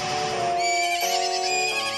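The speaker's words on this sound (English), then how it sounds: "that is my horse" Epona, the horse in Zelda: Majora's Mask, gives a loud, close neigh lasting about two seconds, a wavering high whinny with game-style clarity and no talking over it.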